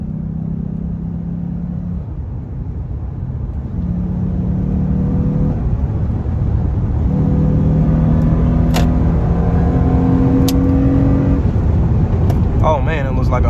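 Acura TL held in third gear under hard acceleration, its engine note climbing steadily in several long pulls and growing louder, with a voice talking over the drone.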